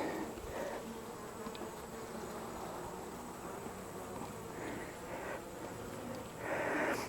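Worker honey bees buzz steadily around an open, queenless hive during an inspection: a dense, continuous drone close by that swells slightly near the end, with no speech.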